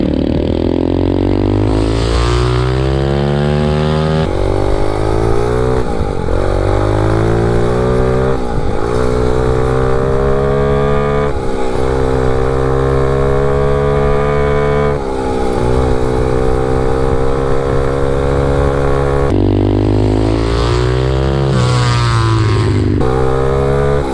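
A MotoVox minibike fitted with a 200cc dirt bike engine revs loudly and close, its pitch climbing and dropping repeatedly through several throttle bursts and gear changes, with brief dips between pulls.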